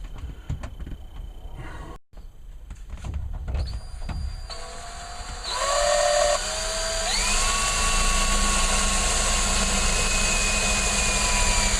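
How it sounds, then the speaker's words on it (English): A power drill bores into a rounded metal part, starting with scattered clunks and handling noise before a steady high-pitched whine settles in, rising in pitch and holding loud and close for several seconds. "Not easy drilling into a rounded piece of metal."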